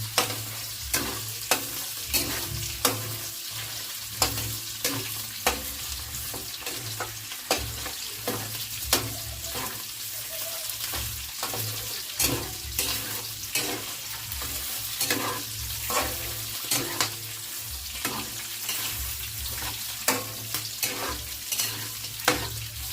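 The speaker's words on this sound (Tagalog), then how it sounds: "Igisa lang po natin siya ng igisa. Haluin lang po natin hanggang po ay mag-light brown ito." Vegetables sauté in hot oil with a constant sizzle, while a spatula scrapes and taps against the pan in a regular stirring rhythm, close and fairly loud, with a low hum beneath.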